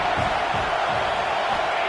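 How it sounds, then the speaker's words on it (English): A loud football stadium crowd roaring for a fourth down stop, a dense, continuous wall of noise with rhythmic surges. "Crowd is loud, hoping for a 4th down stop."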